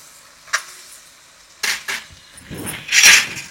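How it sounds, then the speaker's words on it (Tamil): Ginger garlic paste stirred into sautéing onion and tomato for a home chicken dish, with scattered clatter of a spoon against the pan, a couple of sharper clinks, and a soft sizzle building toward the end. "நல்லா வதங்கிட்டு இப்போ இஞ்சி பூண்டு பேஸ்ட்டு போட்டு வதக்க போகிறோம்."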